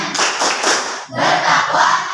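A group performs an Indonesian tepuk clapping chant about Ki Hajar Dewantara's educational thinking, with loud bursts of mixed clapping and chanting voices, a brief break, then another burst.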